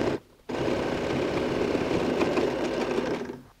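Sewing machine running a steady top-stitch along a quilted toiletry bag, a fast even motor whir that starts after a short pause and winds down at the end.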